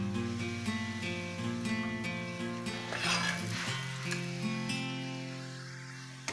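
An egg paratha sizzles steadily in a hot pan, with a continuous, moderately loud crackle and fizz and occasional soft scraping. No one speaks, and a faint tonal hum runs underneath.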